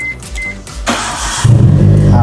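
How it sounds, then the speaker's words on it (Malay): A Proton Satria Neo engine started with a push start button, with a short click and whir of the starter followed by the engine catching and settling into a close, steady idle. "So nak start engine pakai push start button pun boleh sekali lagi"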